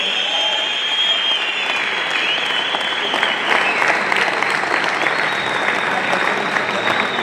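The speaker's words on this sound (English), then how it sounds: "Please give him a round of applause." Sustained applause from a men's conference audience at Rand Water, many people clapping in a loud, even wash that swells slightly midway, with a faint steady tone and some crowd voices under it.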